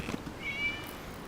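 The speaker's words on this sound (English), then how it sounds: "It was just a cat." A single cat meows softly once in the Genshin Impact video game, a thin drawn-out call over faint background ambience with no talking.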